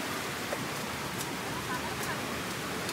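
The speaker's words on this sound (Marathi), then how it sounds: "थोडा वेळेला आता डायरेक्ट माझा धबधबा आहे" A Konkan waterfall sounds as a steady, even rush of water that stays moderately loud and unchanging throughout, with faint scattered clicks and a murmur of voices blending in underneath.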